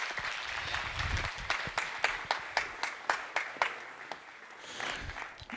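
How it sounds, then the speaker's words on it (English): Scattered audience clapping with a few sharp individual claps standing out, moderately loud and steady before tapering off. "So give a warm applause for Ben Fisher."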